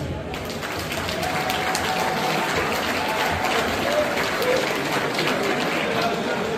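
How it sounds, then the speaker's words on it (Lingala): Dense, steady applause from a church audience fills the whole stretch at an even volume, with many hands clapping together and no pause. "De nouveau, vous pouvez les applaudir."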